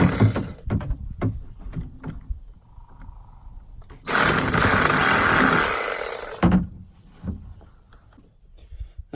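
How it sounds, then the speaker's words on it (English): A saw cuts PVC pipe for a homemade kayak duck blind outdoors, with a loud, rough two-second burst of cutting noise between scattered knocks and handling clatter. "I'm just cutting my marks where I'm going to put the T's in"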